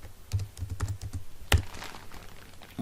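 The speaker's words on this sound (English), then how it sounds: "so I'll type that quantity" Light tapping on a computer keyboard, several quick soft keystrokes in an irregular rhythm with a sharper click midway, close and quiet.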